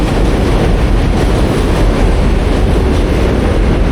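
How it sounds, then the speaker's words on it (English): An elevated subway train in a New York neighborhood rumbles past close by, loud and continuous, with a dense clattering roar and no voices. "You can hear the train."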